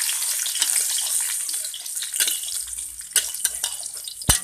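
Chopped garlic sizzles in a hot frying pan, a bright steady hiss with a few sharp crackles and pops toward the end, close and fairly loud with no talking.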